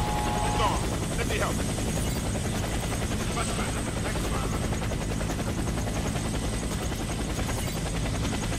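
A helicopter thunders in for extraction in the shooter Warface, its rotor a loud continuous throb filling the scene while gunfire crackles and voices speak.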